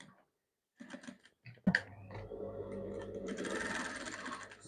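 A sewing machine top stitching fabric for palazzo pants: a few close handling clicks, then the motor starts with a thump and runs in a steady whirring hum that grows louder and busier toward the end.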